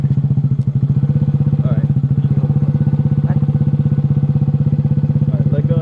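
A motorcycle idles close by during a riding lesson with a steady, rapid thumping engine pulse that holds the whole time, while a person speaks briefly over it.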